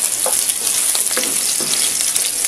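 Ginger sautés in hot oil alongside fried pork, a loud, close, continuous sizzle and crackle with intermittent stirring scrapes, no one talking.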